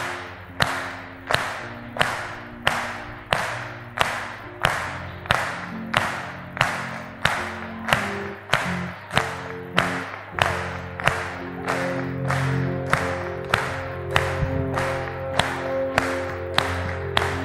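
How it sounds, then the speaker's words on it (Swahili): A group claps hands together in unison at a steady, even beat, about thirty sharp claps in a row, loud and close, with a low hum and background sound underneath. "Nataka tujaribu kupiga makofi."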